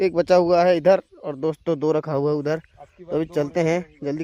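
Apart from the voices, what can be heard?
None of the usual background noises is heard.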